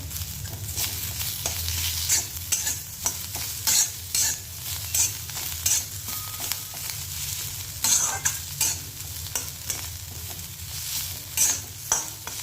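Sabudana khichdi being sautéed and stirred in a pan, with a steady close sizzle and frequent scraping strokes of a spoon against the pan, no talking.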